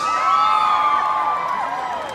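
An arena concert crowd roars with cheering and whoops, many voices blending into a bright, sustained shout with a few high cries standing out.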